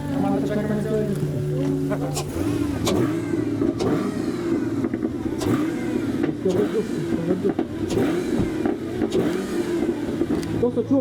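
Large car engine warming up, idling roughly with repeated revs that rise and fall steadily under ongoing voices talking nearby.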